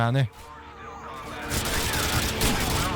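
Rapid gunfire in Call of Duty: Modern Warfare 2 crackles steadily under an excited voice, growing denser and louder after the first second.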